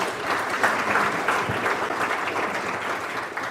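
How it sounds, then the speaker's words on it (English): Dense, even applause from a conference audience at a data governance panel, continuous clapping with no talk over it. "Let's give them a big round of applause."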